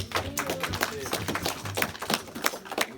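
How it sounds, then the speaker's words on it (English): An audience claps after a lecture by a swami at an ISKCON temple, with dense, close applause mixed with a voice speaking over it. "Give him a one round of great round of applause, please."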